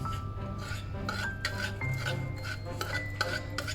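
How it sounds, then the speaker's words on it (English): A knife trims the crumbly edge of keto quiche pastry in a dish, giving soft close scraping and rasping strokes with light clinks against the dish, no talking. "now get a knife and trim off the excess"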